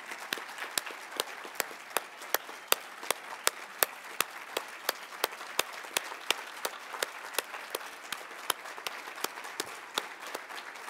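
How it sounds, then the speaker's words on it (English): A roomful of people at a network plenary session clapping to thank two leaders, steady dense applause with some sharper individual claps standing out throughout. "I want everybody in this room to clap and thank Mike and Wafa"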